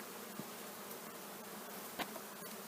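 Honey bees buzzing around an open hive while a honey super is being removed, a steady faint hum with a few brief knocks.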